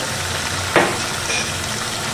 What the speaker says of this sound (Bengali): এবার এটাকে খুব ভালো করে সবজিগুলোকে মিশিয়ে নিচ্ছি